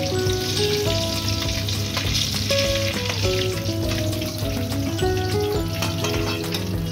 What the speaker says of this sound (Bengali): ধীরে ধীরে ভাজতে হবে।